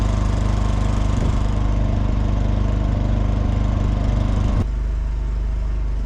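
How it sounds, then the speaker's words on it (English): Honda 2000-watt inverter generator engine running steadily at close range, a continuous droning hum with a shift to a lower, slightly quieter pitch near the end, no talk. "The Honda generator has a 2000 watt inverter, and of course the engine will spool up to meet the demand"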